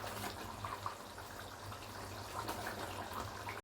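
Steady bubbling and simmering of garlic curry in a pot, a continuous watery hiss close by with no talking.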